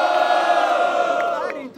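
A crowd at a Brazilian freestyle rap battle roars and cheers loudly with sustained shouting from many voices, then fades off toward the end.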